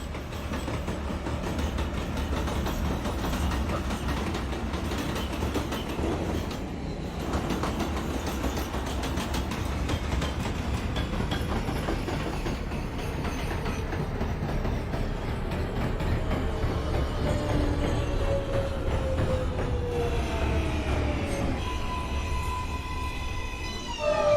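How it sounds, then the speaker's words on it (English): An NYC Subway R143 train in the OpenBVE simulator runs along the track with a continuous rolling rumble and clatter, and rising motor whine builds near the end. "This is a Manhattan-bound J local train."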